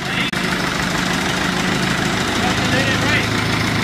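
A Cummins turbo diesel crate engine running steadily at idle after starting, a loud, close, continuous knocking diesel rumble with even vibration throughout the short stretch.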